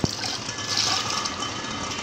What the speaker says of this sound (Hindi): अब इसमें हम पानी और डालेंगे। बहुत गाढ़ा है ये,